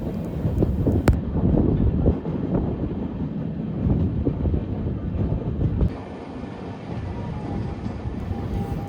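Hyderabad–Vijayapura Express hauled by a WAP-7 electric locomotive rolling past, a steady loud rumble and rattle of coaches with wind buffeting, easing slightly toward the end.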